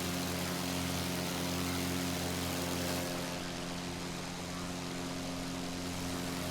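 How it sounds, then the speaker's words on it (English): A Tiger Moth biplane's piston engine drones steadily in Microsoft Flight Simulator, a continuous propeller hum that holds even and dips slightly in level partway through, with no talking. "This is Anti-Aeroplane's Tiger Moth."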